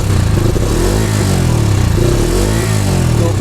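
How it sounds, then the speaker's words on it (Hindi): A Bajaj Freedom 125 motorcycle running on CNG idles with its exhaust close by, giving a loud, steady low thrum with a regular pulsing beat and no speech. "तो ये हो गया दोस्तों इसका एग्जॉस्ट नोट।"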